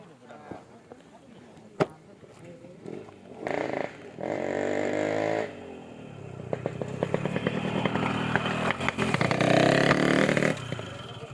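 A motorcycle engine revs in repeated surges, rising and falling loudly up close, while people talk around it.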